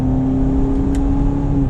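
A 2020 Range Rover Evoque engine takes a little gas in manual mode, a steady loud low hum with a smooth rising drone heard from inside the cabin, with no talk.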